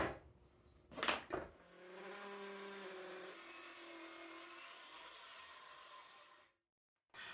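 A power saw squares off the edges of a teak cutting board. A couple of sharp bumps come first, then a steady whirring cut hums for about five seconds before it stops abruptly, and the sound is fairly quiet overall.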